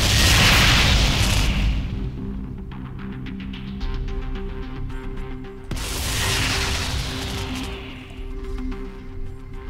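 Two heavy explosions boom out in a Warhammer 40k: Deathwatch Tyranid invasion battle, each a sharp blast trailing into a long rumbling decay over faint steady game tones.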